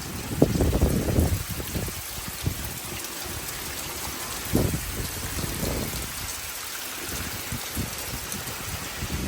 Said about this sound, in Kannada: ಸಿಕ್ಕಾಪಟ್ಟೆ ಗಾಳಿ ಮಳೆ